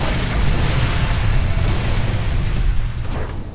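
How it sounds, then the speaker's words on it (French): An explosion in the video game Splinter Cell Conviction, a dense, loud rumbling blast with sustained crackling debris noise that fills the whole stretch without letup. "Ce que j'aime les explosions."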